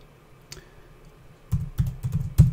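Password being typed on a computer keyboard: near-silence, then several crisp, close keystrokes in an uneven burst, with no speech.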